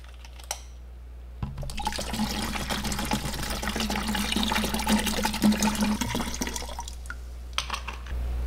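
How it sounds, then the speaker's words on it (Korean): One liter of lactic acid bacteria starter culture, a 21-strain blend, pours steadily into a container of ingredients for homemade probiotic brew, a continuous close liquid rush that runs several seconds before stopping abruptly, with no talking. "종균 21종 유산균 종균을 1리터를 부어 줄 겁니다."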